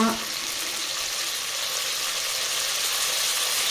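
Ginger garlic paste frying in a pan for chicken palav, a steady soft hiss and sizzle that holds evenly throughout at moderate level, with no voices over it.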